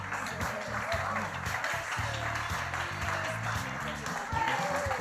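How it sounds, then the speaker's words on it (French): An audience applauds at a demo day event. A steady patter of clapping runs under a presenter who speaks throughout over the crowd. "je vous propose de les applaudir encore une fois"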